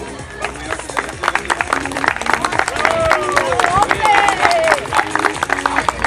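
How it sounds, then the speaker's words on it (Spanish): Crowd applause at a dog agility awards ceremony in Gran Canaria: continuous, lively clapping that swells midway, with a few whistles and cheers rising above it. "Un aplauso, por favor."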